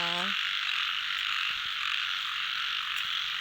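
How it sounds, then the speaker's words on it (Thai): A dense evening chorus of frogs croaks nonstop around a rural Thai home. The calls form a steady, loud wall of sound, and a voice is heard briefly at the very start. "สียงน้องกบน้องเขียดร้องกันระงมเลยนะคะ"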